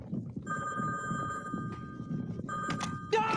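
A telephone bell rings in a steady electronic trill against a low background murmur, then ends with a short thunk.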